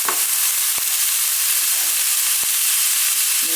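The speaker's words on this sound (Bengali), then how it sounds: "এখন এখানে আমি মূলাগুলো ঢেলে দিচ্ছি" Radish pieces tipped into a hot pan for a quick fry, giving a steady close sizzle of oil throughout with a few faint clicks of pieces landing, no voices.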